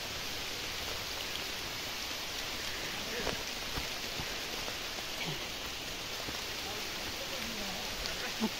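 Steady rain falls outdoors on a hill path, a dense even hiss that fills the whole clip with scattered drop ticks, close and fairly loud, with no talk heard.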